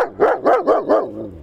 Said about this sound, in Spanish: está ladrando, quién sabe a qué hay afuera